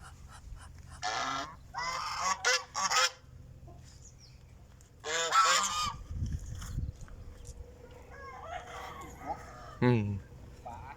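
Geese honk in a backyard garden in several loud, ragged bursts separated by pauses, some overlapping calls alongside a faint rooster-like crow, with low background rumble between the outbursts.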